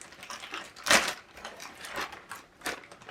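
Crinkling plastic bag of a Djeco jigsaw puzzle being handled and opened, several close crackling rustles with one sharper crunch near the start, no voices.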